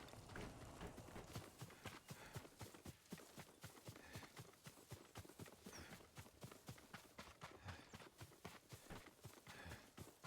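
Horse hooves pound rapidly in a fast galloping rhythm in the video game Ghost of Tsushima, a continuous drumming of clip-clop beats that stays steady and faint throughout.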